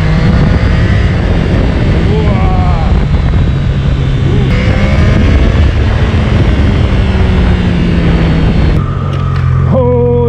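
A Triumph 660 Daytona motorcycle engine pulls hard under acceleration while riding, loud and close, with rising whines between gear changes and heavy wind rush throughout.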